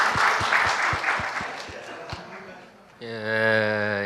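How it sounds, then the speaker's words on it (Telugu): A crowd at a promotional event for Upendra's film UI claps for the man who made a mashup, a broad burst of applause that fades over a couple of seconds before a voice begins speaking. "Big claps for him actually."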